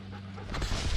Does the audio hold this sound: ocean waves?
no